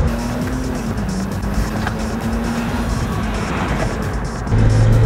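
A Porsche 911 Turbo passing by on a Los Angeles street, a steady loud engine drone holding through the whole stretch and swelling slightly at the end, with no talk over it.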